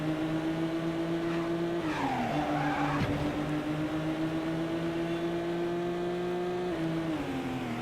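Racing car engine in the Midnight Club 2 video game on a Los Angeles circuit, droning steadily with shifting pitch and a squeal of tires through a corner midway, loud and continuous with no talk.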